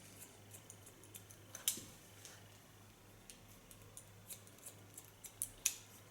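Scissors snipping hair by hand during a short pixie cut, quiet crisp clicks scattered irregularly over a soft background, with no talking.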